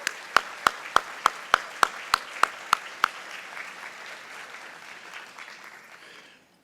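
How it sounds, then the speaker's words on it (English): Audience applause at an award ceremony: about ten sharp, evenly spaced claps ring out first, then a broad wash of crowd clapping swells and fades away toward the end. "let's give them another round of applause."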